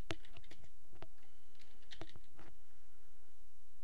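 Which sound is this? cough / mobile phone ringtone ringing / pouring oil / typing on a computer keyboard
typing on a computer keyboard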